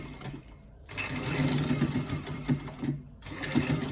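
A straight-stitch sewing machine runs close up with a steady whirring, rattling drone, breaking off briefly twice as the stitching reverses direction.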